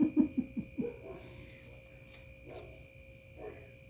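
A neighbor's dog gives a quick run of five deep, muffled barks at a distance, then a low ambient hum lingers with a few faint thuds.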